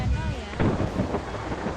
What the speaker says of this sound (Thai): มีฟ้าผ่าด้วย ว่ะ